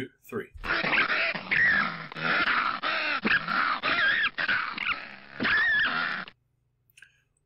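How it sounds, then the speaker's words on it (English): Gray fox call: a run of harsh, raspy yelps and growling barks in quick uneven bursts, fairly close, bracketed by a brief spoken word at the start and a short pause at the end. "It is a gray fox."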